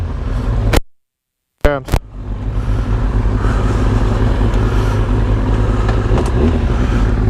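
Original 1998 Yamaha R1 sport motorcycle engine while riding, a loud steady roar with wind rush, briefly cut out near the start before the engine note returns and holds continuously.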